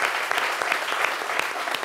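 A room full of listeners applauds a guest speaker at a midday public talk, producing a brisk, continuous patter of many hands clapping at moderate volume for a couple of seconds.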